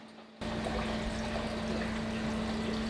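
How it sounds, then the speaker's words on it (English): Water poured into clay aquarium substrate in a fish house, a steady close pour and trickle that starts abruptly and runs continuously to the end, with a faint hum beneath. "Okay, so I'm putting in a little bit of water in there."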